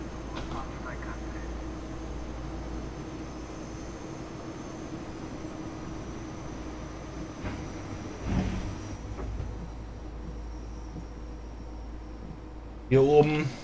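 A train in Train Sim World 2 begins to depart with a low, steady rumble and hum, a couple of heavier surges midway and near the end, under a German-speaking voice.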